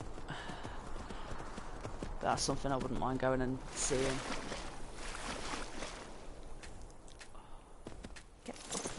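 Horse hooves clip-clop at a walking pace in the game Skyrim, a rhythmic string of steps under someone talking and game sounds.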